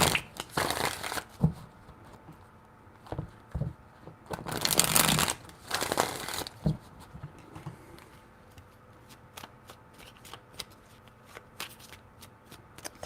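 Tarot cards being shuffled in a reading, with loud riffling bursts near the start and middle, then quieter scattered taps and slides of cards being handled and set down.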